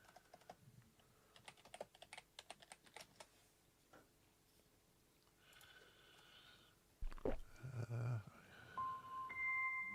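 Quick bursts of keystrokes clatter on a computer keyboard for the first few seconds, then the typing stops and scattered indoor clunks and brief electronic tones follow.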